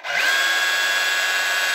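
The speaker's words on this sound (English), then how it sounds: "Here we have a DCH273 DeWalt hammer drill 3 function." A cordless DeWalt DCH273 three-function SDS hammer drill, faulty with little or no rotation in one mode, spins up and runs steadily with a high, whining motor tone, close and loud, no voices.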